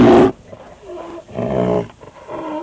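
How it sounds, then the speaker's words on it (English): A rhinoceros call from an animal sounds game: a loud opening blast, then three low, groaning grunts in separate bursts, close and unaccompanied by talk. "Rhinoceros."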